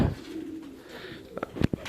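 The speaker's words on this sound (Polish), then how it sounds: "dwadzieścia sześć gołębi" Pigeons cooing inside a morning pigeon loft housing around two dozen birds: a soft, low, drawn-out coo followed by a few short throaty calls near the end, close and without talk.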